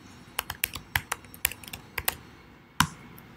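Java code being typed on a computer keyboard, a dozen or so crisp, close key taps in an irregular rhythm, clear and alone with nothing else heard.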